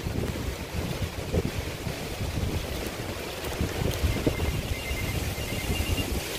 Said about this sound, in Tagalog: Nakita ninyo ang lakas ng hangin.